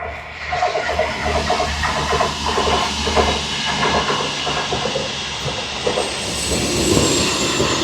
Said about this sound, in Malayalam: മരങ്ങളൊക്കെ ഒരു ട്രാം വരുന്നുണ്ട്.